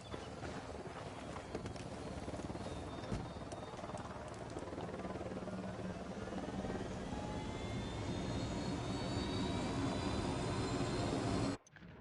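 Helicopter in the video game Ghost Recon, a steady loud rotor and engine drone holding for about eleven seconds before cutting off abruptly near the end.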